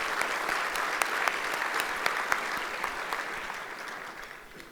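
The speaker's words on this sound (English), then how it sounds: "Yes, I think that does deserve a round of applause." Steady applause from a gala audience, dense clapping that holds for several seconds at moderate level and slowly fades toward the end.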